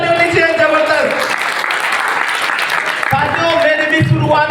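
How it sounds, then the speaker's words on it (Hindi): An audience in a company meeting hall claps loudly and steadily, and the applause runs throughout the clip under and around a voice on a microphone. "एक बार जबरदस्त ताली होनी चाहिए, जबरदस्त।"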